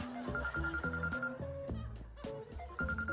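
A mobile phone rings with a melodic electronic ringtone, a loud repeating pattern of tones played close, with no talk over it.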